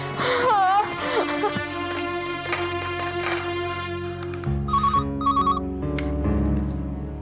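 A short electronic ringtone chirps twice in quick pulses over background music and dramatic sounds.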